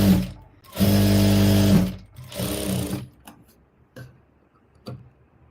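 A sewing machine stitches blouse fabric in short bursts, a steady whirring hum that starts and stops, followed by faint ticks and clicks from adjusting the machine.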